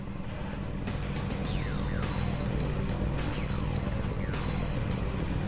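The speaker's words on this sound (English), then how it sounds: "drivers, start your engines" Race car engines in the iRacing eNASCAR Coca-Cola series at Daytona with next-gen cars, a dense continuous roar of many motors with repeated rising and falling whines of cars sweeping past.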